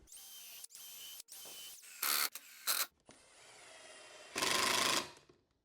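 A power drill pre-drills and countersinks screw holes in a wood bookcase veneer workpiece, heard as several short whirring bursts with brief stops between them, followed by a longer run and a final loud burst that winds down.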